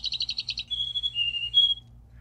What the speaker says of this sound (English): Got them birds.